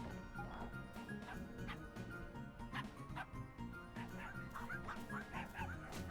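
A dog character in the video game Finding Paradise yips and barks repeatedly over continuous game music and ambience, the calls short and moderately close, with some whimpering mixed in.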